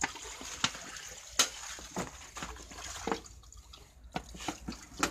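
Water trickles and splashes into a metal pressure cooker holding a covered glass jar, with scattered drips and small clinks against a quiet background.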